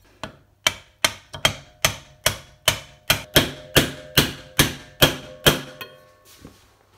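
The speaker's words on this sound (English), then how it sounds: "we're going to gently tap on our bolster" A small aluminum piece is tapped onto the bolster of a handmade puukko knife, giving about fifteen sharp metallic knocks in an even, quickening rhythm, close and loud with no talking.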